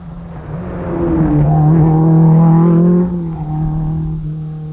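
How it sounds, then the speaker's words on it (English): A Talbot Sunbeam rally car races past on a rally stage, its engine note swelling loudly as it nears, peaking close by and then dropping away as it recedes. "Number 22, Pat Dunyan from Ballybuffet in his Talbot Sunbeam"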